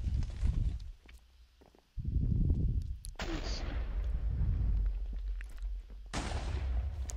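Bombs blowing up in a Minecraft Hypixel Party Games minigame, a series of loud booming blasts with rumbling low thumps and noisy bursts, several in quick succession close by.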